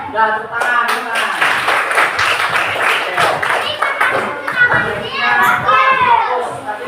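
Children in a classroom clap their hands on cue, a dense burst of clapping mixed with lively kids' voices and an adult talking over them, close and loud throughout.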